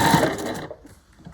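Sewing machine stitching fabric bunting flags, running loud and steady for about half a second before it stops, leaving only soft, faint handling noise.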